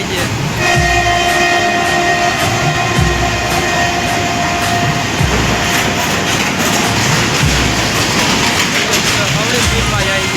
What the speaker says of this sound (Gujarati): આ માલગાડી છે મિત્રો